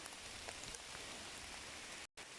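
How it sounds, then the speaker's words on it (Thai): Steady rain falls in a dense, even hiss of drops hitting surfaces, with a brief cut to silence near the end. "โอ้ยฝนตก"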